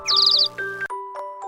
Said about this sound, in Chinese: 原来是小鸟妈妈在唱歌啊